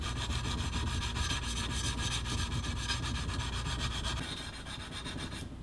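Steady hand-rubbing abrasion on a Damascus steel katana blade, working out grinder scratches, a continuous close scraping rasp that runs evenly throughout, then softens slightly near the end.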